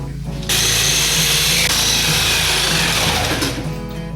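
A power saw with a fine-tooth, wax-coated blade cuts through an aluminum storm door in one loud, steady, continuous rasping whine that runs close up for several seconds, with no talk over it.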